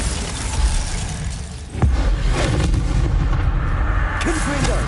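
In Hogwarts Legacy, a Bombarda spell goes off with a sharp blast partway through, ringing over dense, rumbling battle noise with faint crackling after it.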